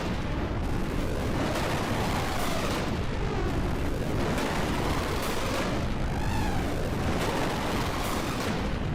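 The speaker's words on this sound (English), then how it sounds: "That's a lot of explosions." Video game explosions from Xenogears boom and crackle in a loud, dense, continuous barrage, with sweeping, swirling effects layered over the blasts and no talk.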